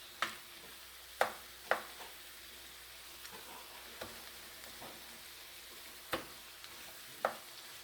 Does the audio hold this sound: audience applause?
no